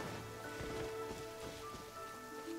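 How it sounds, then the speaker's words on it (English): Rain in Genshin Impact falls steadily on the ground, a dense patter of close drops with scattered louder splashes and no voices. "Wet again. Why is it always raining over here?"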